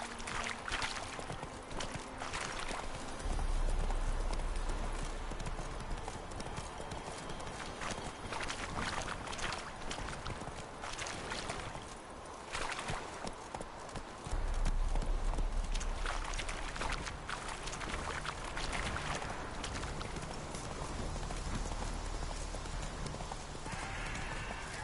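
Hooves of Roach, Geralt's horse in the video game Witcher 3, galloping in a steady, rhythmic clip-clop that runs the whole stretch at close range, with a noisy outdoor ambience behind it.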